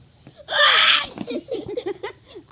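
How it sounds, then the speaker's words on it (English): A person gives a sharp, bright sneeze, followed by giggling and soft laughter nearby. "Are you actually sneezing?"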